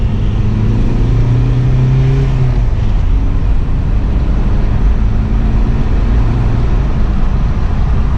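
A 1.9 TDI diesel engine in an MK4 Golf Variant with the EGR valve deleted revs and roars steadily up close, its deep rumble holding strong throughout with slight rises in pitch.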